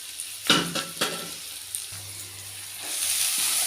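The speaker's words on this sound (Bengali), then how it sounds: "পেঁয়াজটাকে আমি হালকা ব্রাউন করব, হালকা ব্রাউন হবে।" Onion frying in a pan and being browned lightly, a steady soft sizzle with a few sharper clinks and stirring scrapes near the start, continuous and close.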